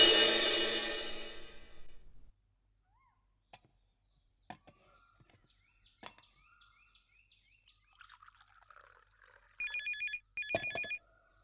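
A telephone ringing in two short electronic trilling bursts near the end, following a stretch of near silence and faint clicks, with a loud burst of noise at the start.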